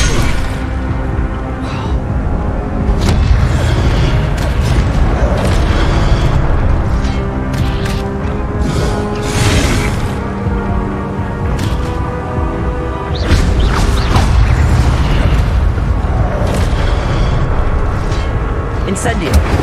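Repeated booming fire-spell blasts from the Incendio charm in Hogwarts Legacy, loud whooshing bursts layered over continuous game music and effects, with a voice speaking in between.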